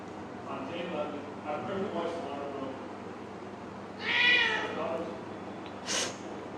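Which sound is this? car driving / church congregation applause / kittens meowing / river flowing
kittens meowing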